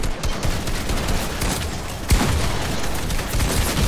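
Rapid gunfire from the video game Fortnite crackles as a dense, continuous burst of shots, with a heavier blast about halfway through.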